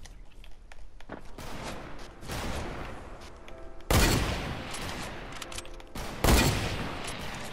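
Gunfire in the Fortnite video game, with two loud sharp bursts standing out over a busy background of game sounds and softer scattered shots.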